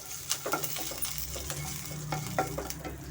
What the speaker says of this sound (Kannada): ಮೀಡಿಯಂ ಫ್ಲೇಮಲ್ಲಿ ಇವಾಗ ನಾನು ಸ್ವಲ್ಪ ಕರ್ಬೇವು ಸೇರಿಸ್ತಾ ಇದ್ದೀನಿ